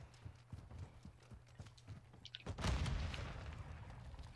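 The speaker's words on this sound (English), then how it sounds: "It's my stupid footsteps" Player footsteps in Call of Duty Modern Warfare II thud in a steady, quick rhythm at moderate volume, then a loud booming burst of gunfire or an explosion cuts in and lingers.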